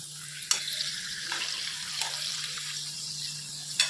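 Urad dal papad frying in hot oil, a soft steady sizzle and bubbling with a few sharp crackles and pops, close and moderately loud, with a faint steady hum underneath.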